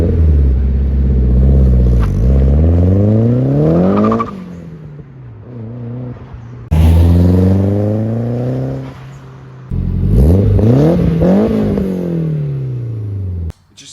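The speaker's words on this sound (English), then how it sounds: "So I currently have the ISR MBSE catback exhaust on here, and it sounds really good." A Nissan 240SX S13 fitted with an ISR catback exhaust revs hard in three loud, close bursts, each climbing and then dropping back to a rumbling idle, with no talking.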